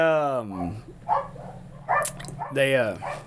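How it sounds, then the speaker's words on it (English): Dog barking excitedly nearby, several loud yips and woofs in quick bursts over a steady low hum, with people talking around it. "dog's going crazy, huh?"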